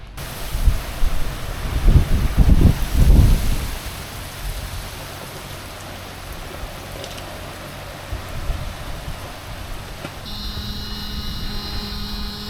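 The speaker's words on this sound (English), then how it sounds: "We just had some rain to rinse the boat. Still raining." Rain falls steadily on a sailboat anchored off Peter Island in the British Virgin Islands, a broad wash of patter that is heavier early on and then settles, with a faint tonal hum entering near the end.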